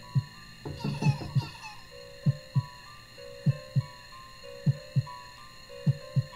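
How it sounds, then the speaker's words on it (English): Heartbeat effect in the horror video game The House: steady, evenly spaced low thumps play under droning, sustained music tones, with a brief burst of brighter sound early on. "And now we have what I think is a heartbeat."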